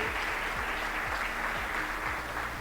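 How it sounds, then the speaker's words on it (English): An indoor audience gives a sustained round of applause at a formal event, with dense, even clapping continuing throughout at a steady loudness. "So one very big round of applause to every single person"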